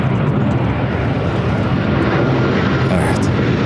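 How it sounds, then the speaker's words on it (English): A jet airliner takes off from the south side of Los Angeles LAX airport, a loud continuous roar filling the air throughout. "That was a takeoff from the south side"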